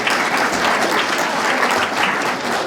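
Sustained applause from an audience at a church talk fills the whole moment, a thick continuous patter of many hands at even strength with no voices breaking through.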